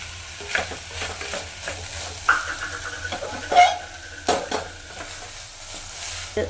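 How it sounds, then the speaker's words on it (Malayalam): Tomatoes go into a hot pan for a broken wheat vegetable biriyani, giving a steady low sizzle broken by several sharp stirring scrapes and clinks of a spoon against the pan, close by and with no talking. "ഇതിനകത്തേക്ക് നമുക്ക് കുറച്ച് ടൊമാറ്റോസ് ആഡ് ചെയ്യാം."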